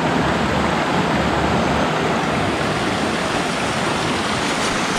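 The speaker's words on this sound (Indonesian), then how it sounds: "Ini adalah aliran sungai dari air terjun Jumok." River stream flowing down from Jumog waterfall on the slopes of Lawu, a dense, steady rush of water that fills the whole clip at close range with no other sounds.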